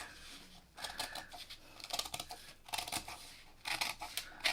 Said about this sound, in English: But then I'm going to cut this curve on the seam allowance.